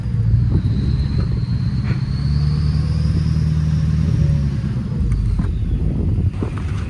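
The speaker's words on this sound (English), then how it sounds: "I love this truck." A pickup truck engine rumbles steadily at close range, a low continuous drone with a faint rising whine, as the vehicle drives on a farm during spring planting.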